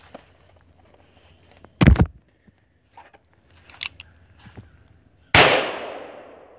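A revolver going off with several cylinders firing at once, a sharp loud crack followed by small clicks and handling noises, then a second very loud blast with a long ringing decay.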